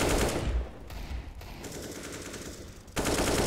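Automatic gunfire from a Counter-Strike match on the Dust2 map, a loud close burst of shots that dips into a quieter stretch and then returns at full force near the end.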